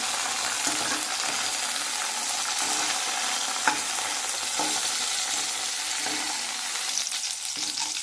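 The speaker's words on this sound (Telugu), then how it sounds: "మిరపకాయలు వేగాయండి, ప్లేట్లో తీసేసుకున్నాం" Five dried red chillies frying in a pan, a loud, bright, continuous crackling sizzle up close, broken by several soft stirring knocks spaced a second or so apart, with no speech.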